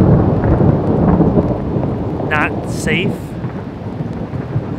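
Steady heavy rain and low rolling thunder fill a city street during an Atlanta storm, loud and continuous throughout, with brief voices talking partway through.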